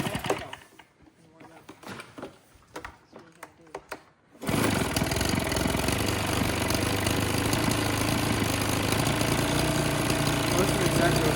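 A Husqvarna 130BT leaf blower fitted with an aftermarket carburetor sits through a few seconds of scattered clicks and knocks, then its small two-stroke engine settles into a steady, loud idle that holds for the rest of the clip.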